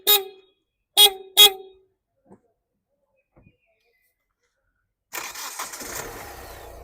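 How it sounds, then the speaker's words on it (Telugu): A 2019 Hyundai Venue SX(O) diesel gives three short, loud beeps, then after a quiet pause its engine starts on a single crank and settles into a steady, rattly idle nearby. "సింగిల్ సెల్ఫ్లో బండి స్టార్ట్ అవుతుంది సార్."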